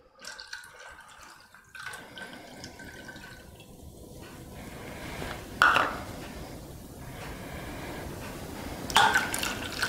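Milk pours into a bowl of pancake batter, giving a soft trickling, gurgling flow with a couple of brief clinks, close and alone.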